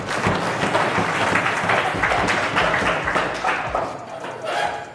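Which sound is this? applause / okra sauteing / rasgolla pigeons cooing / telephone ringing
applause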